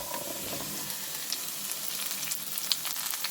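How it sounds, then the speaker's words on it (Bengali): Potatoes, flat beans and eggplant fry in hot oil for a spinach ghonto, giving a steady, close sizzle and crackle with a few sharper pops and no voices. "এই শিম বেগুনগুলো একটু চাপা দিয়ে আমি ভাজবো"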